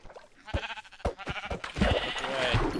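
Sheep bleating in the video game Minecraft, a few short wavering bleats close by, with people talking over and between them.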